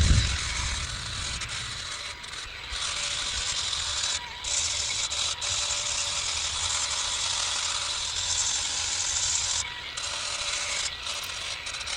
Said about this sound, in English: What I have on the angle grinder is a flap disc.